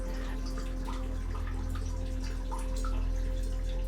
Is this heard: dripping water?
yes